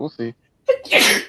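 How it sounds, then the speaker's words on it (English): A single sharp sneeze, close and loud, preceded by a short bit of talking and a brief pause, recorded during a podcast conversation. "Bless you."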